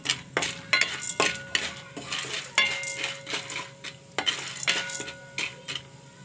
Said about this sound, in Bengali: তেলের ভিতরে লবণ দিচ্ছি তাই একটু নাড়াচাড়া করে দিলাম যাতে লবণটা সব জায়গায় পৌঁছায়